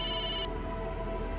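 Telephone ringing late at night in a Hindi TV drama scene, a brief electronic ring tone that stops partway through, leaving a low hum, with no talk.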